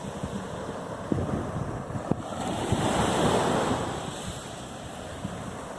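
Strong sea waves break on a beach at Isla de Tris, a continuous roar that swells in the middle. Heavy wind buffets the microphone throughout, with no talking.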